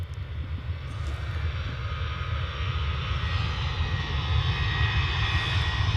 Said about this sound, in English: Yet another Ryanair.